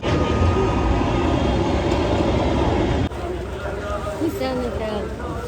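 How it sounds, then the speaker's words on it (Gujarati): A train passes close to lodgings in Haridwar, a steady broadband rumble and rattle that holds loud and then drops slightly in level partway through, with voices talking over it. "જો અમારે બી આખો દિવસ આ ટ્રેન નો અવાજ આવે"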